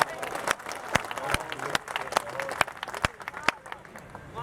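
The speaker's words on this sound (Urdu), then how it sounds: "تالی اگر بجا رہے ہیں تو ذرا ایک ساتھ بجائیں۔" Scattered, uneven hand claps ring out from an audience at a poetry mushaira in Mumbai, sharp individual claps over a low crowd murmur rather than unified applause.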